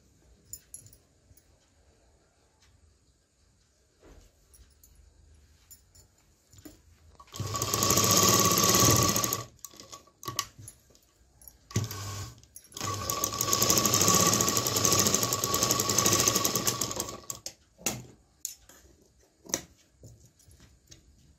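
Sewing machine stitching tucks on the back of a blouse, heard as two close bursts of rapid mechanical whirring separated by a short pause, with no talking.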